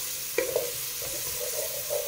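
Garlic and ginger paste fries in a pan for sauté vegetables, giving a close, steady sizzle with a brief stir or scrape near the start.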